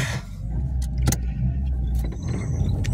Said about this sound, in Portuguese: Esse carro não para, pessoal.